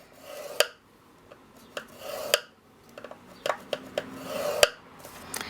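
A scoring tool is drawn across a paper or cardstock sheet on a scoring board in short, separate rasping strokes, each with a sharp click. The strokes are close and come at uneven intervals with quiet gaps between them.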